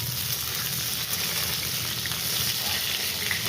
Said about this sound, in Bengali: হালকা করে পটলগুলো আমি ভেজে নিলাম